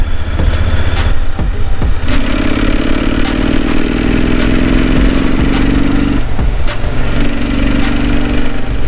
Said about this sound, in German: Aber Motorrad ist sauber angesprungen.